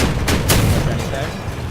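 Vehicle-mounted guns firing in the combat game Crossout, a couple of loud sharp shots over constant engine and battle noise, heard close.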